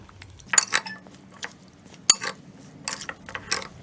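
Spoon clinking against a bowl while mixing carrot pickle with spices, a few sharp irregular metallic taps and scrapes, close and otherwise quiet.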